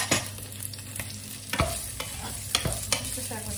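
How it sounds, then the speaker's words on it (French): Tofu frying in a drizzle of olive oil in a pan, stirred with scraping clicks and soft sizzling, several sharp utensil knocks against the pan standing out over a steady frying hiss. "Je vais faire revenir le tofu."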